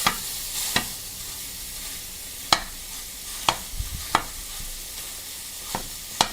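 Sausage frying in a preheated pan while a flat-edged spatula breaks it apart: a quiet steady sizzle punctuated by about eight sharp scraping knocks of the spatula against the pan, spaced irregularly.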